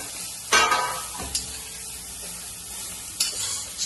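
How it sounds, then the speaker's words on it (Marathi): Grated carrot sautés in ghee for carrot halwa with a low, steady sizzle. A few sharp scraping stirs stand out, and no one talks. "आता याच्यामध्ये गाजरांचं किसलेलं गाजर टाकले त्याच तुपामध्ये, त्याला पण थोडस परतून घ्यायचं छान असं."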